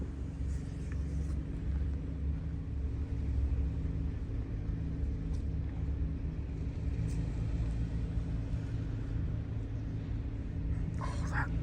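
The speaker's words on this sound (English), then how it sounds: "This is pickup truck with mud grips type of driving." A pickup truck on mud-grip tires rolls slowly through hurricane debris on a beach road, giving a steady low engine rumble and tire drone up close that holds without a break, with faint scattered clatter.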